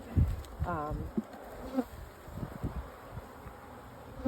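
Honey bees buzz around an opened hive, with several close buzzing passes and soft rustling over a faint background hum, no one talking.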